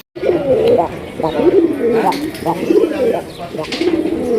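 A pair of white Indian Kakji pigeons coo close by in repeated soft throaty phrases, with someone talking over them throughout.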